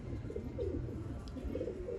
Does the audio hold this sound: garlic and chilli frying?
no